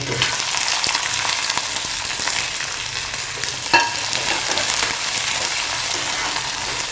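An onion fries in oil with browned garlic, the oil left from roasting lentils, making a steady close sizzle with regular spatula scrapes and one sharper knock midway; no one talks.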